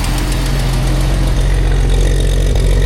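A restored hundred-year-old Packard car engine runs steadily at idle, a loud, close mechanical drone with a low rhythmic thrum and faint ticking throughout, no voices.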